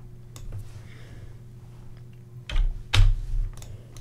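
Typing on a computer keyboard during game development work, soft steady key taps with a couple of louder clustered strikes near the end, no voices.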